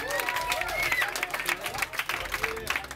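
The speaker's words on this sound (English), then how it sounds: "give yourselves a big round of applause," Audience applause at an open mic talent show, dense clapping mixed with a few whoops and crowd noise, steady and fairly near throughout.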